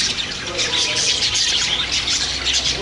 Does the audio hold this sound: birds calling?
yes